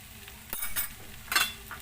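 Fresh coriander leaves drop into a pan of sizzling vegetable biryani, giving a few soft bursts of hissing and stirring scrapes close up, with a sharper sizzle flare near the end.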